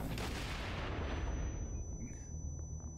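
A grenade blast in the action game Wanted: Dead opens with a loud booming burst, and a long rumbling tail then fades over a few seconds.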